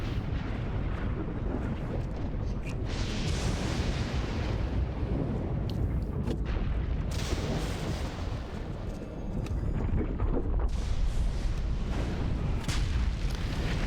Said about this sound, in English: So Detonate is a basically detonates the sticky bombs that we put on our target.